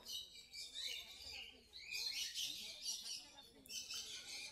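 Long-tailed finches and other caged finches at the Garia bird market, a dense, continuous chorus of high chirps and twitters, fairly close and lively, with crowd murmur in the background.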